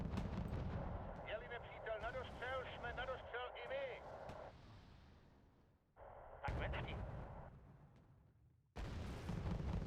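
In Wargame: Red Dragon, MILAN anti-tank missiles fire amid heavy battlefield shooting, with repeated sharp reports and rumbling blasts in bursts separated by quieter gaps and sudden cutoffs, the whole mix fairly faint and distant.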